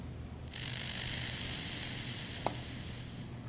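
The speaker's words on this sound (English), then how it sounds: "apply a little bit more liquid to the coil, and then burn it to see if it's burning evenly" An e-cigarette atomizer coil wetted with liquid hisses and sizzles as it fires, a sharp crackling hiss that starts suddenly and holds steady for about three seconds, close up.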